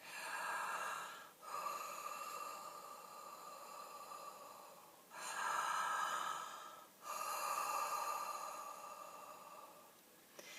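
Deep, slow breaths drawn in through the mouth, long airy inhales with brief pauses between them, close and fairly loud, with no speech.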